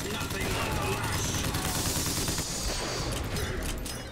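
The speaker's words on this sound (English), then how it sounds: "I shot that dude in the friggin' nose." Gunfire in BioShock Infinite: a continuous, loud crackle of rapid shots and chaotic combat noise fills the whole short stretch, with no pause.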